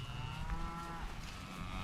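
Cattle lowing on a farm after feeding, one drawn-out moo rising and falling at moderate distance over a low rumbling background.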